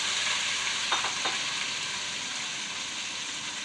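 Potatoes fry in hot oil with garlic-ginger paste for aloo methi, giving a steady, close sizzle with a few brief stirring clinks early on and no speech.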